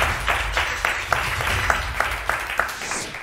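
A studio audience on a TV word-game show applauds in a steady, rhythmic clap that pulses roughly three times per second, moderately loud and without talk.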